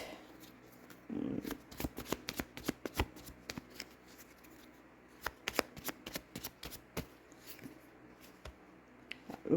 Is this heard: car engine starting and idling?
no